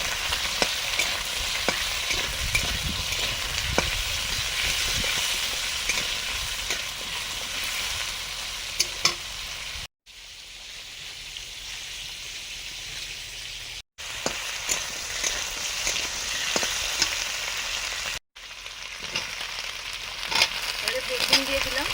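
Potatoes frying in oil, a steady dense sizzle with crackling spatters that runs on for a long stretch, broken by a few abrupt cuts to silence and then resuming just as loud.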